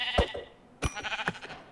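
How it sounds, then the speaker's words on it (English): A pink sheep bleats in the Minecraft video game, several short close bleats coming in two clusters with a brief gap between them. "Is that a pink sheep?"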